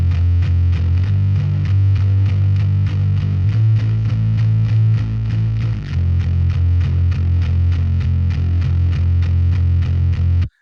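A bass guitar runs through the Audio Assault Clank distortion plugin in a rock mix, playing a loud, continuous gritty riff with thick low end and buzzy overdrive that stops abruptly at the end.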